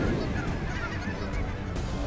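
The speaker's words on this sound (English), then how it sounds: "there's some white geese in there" Snow geese honk repeatedly in a noisy flock during a waterfowl hunt, a dense chorus of overlapping calls that carries on without pause.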